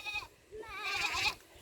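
A young buckling goat, kept apart from its mother, lets out two wavering, quavering bleats close by, the second longer and louder, with a faint low background rumble.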